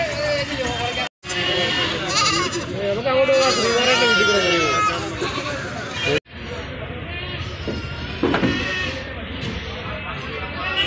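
Malabari native goats bleating at a busy livestock market, the wavering bleats repeating over continuous crowd chatter and loud market noise.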